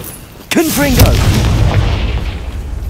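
A Confringo explosion spell in Hogwarts Legacy, a single heavy boom bursting in after a short quiet lead-in and rolling into a long rumbling decay, loud and close, with a voice briefly heard near the blast.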